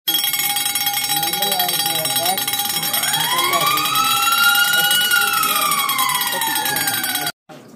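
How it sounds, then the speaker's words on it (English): A student's earthquake alarm model at a school science fair, sounding a loud continuous electronic siren-like tone that rises and sweeps in pitch before cutting off abruptly near the end, with background chatter from the exhibition hall. "today I am going to present this earthquake alarm"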